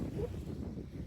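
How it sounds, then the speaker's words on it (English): Strong wind buffeting the microphone at Hayling Island nature reserve, a low continuous roar with no clear breaks over the brief span. "It's really windy. It's actually freezing."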